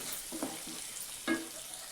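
Coriander powder stirred into hot oil with coarsely ground spices for a hotel-style tadka dal fry, giving a soft steady sizzle with a couple of brief scraping stirs of the spoon.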